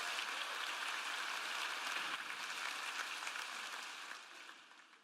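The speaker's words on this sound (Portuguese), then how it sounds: "dê um aplauso para eles." Church congregation applauding after a sermon, a steady dense wash of clapping from a large crowd that holds even and then fades out toward the end, with no talking.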